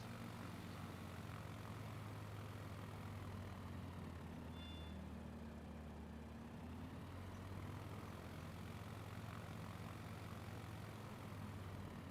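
In a flight video game, a propeller airplane's engine drones steadily and quietly, holding a low continuous hum as it throttles down, with no talk.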